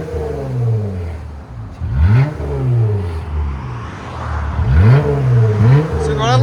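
2020 Jeep Gladiator 3.6L V6 with BIGBOZ exhaust, blipped twice in quick rising-and-falling revs over a steady idle, deep and close.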